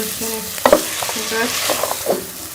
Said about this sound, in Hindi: 1 से 2 मिनट जो है वो चिकन को प्याज और मसाले के साथ भून लेंगे